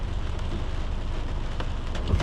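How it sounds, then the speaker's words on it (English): Heavy rain pours down during an early-morning city drive in New York, a dense, steady hiss of drops drumming on the car with a few sharper splashes near the end. "This rain is coming down."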